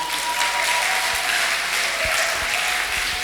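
A church congregation applauding steadily and loudly throughout, a dense, sustained wash of clapping from many hands at close range with no pauses.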